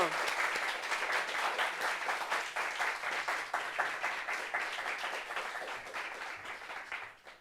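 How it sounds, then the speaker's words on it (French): A studio audience applauds to welcome a guest named Didier onto a French talk show, a dense, steady round of clapping at close range that fades slightly toward the end. "Applaudissements, applaudissements."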